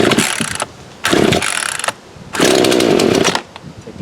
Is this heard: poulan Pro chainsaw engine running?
yes